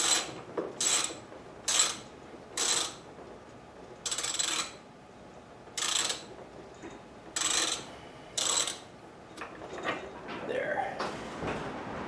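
Repeated ratcheting clicks come from a wrench loosening the cap on a Suzuki GS550 front fork, in short close bursts separated by pauses, with a faint metallic pop near the end.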